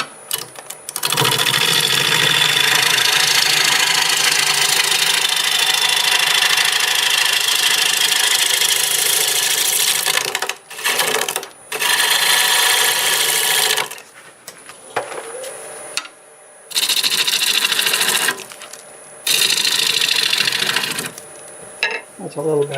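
A wood lathe turns a piece of redbud wood while a cutting tool works it, making a loud steady whirring hiss broken by several short pauses and restarts. No one speaks.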